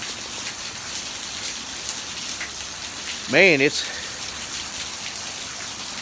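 Steady rain falls on a rainy February morning in Arkansas, a soft continuous hiss throughout, with someone briefly speaking over it near the middle.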